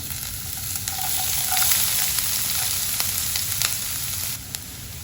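Chopped onion and crushed garlic fry in a pan with a continuous, close sizzle and occasional stirring scrapes, steady and moderately loud with no voices.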